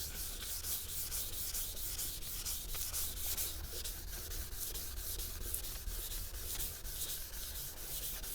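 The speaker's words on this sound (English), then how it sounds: "I'm just going to start sanding that down." Steady, rhythmic rasping of 800-grit sandpaper on a flex block rubbed back and forth over a cloudy plastic Audi A4 headlight, close up and continuous, with no talking.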